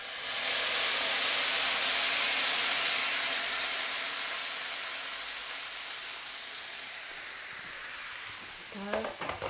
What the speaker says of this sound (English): get your kettle and pour very carefully because it will sizzle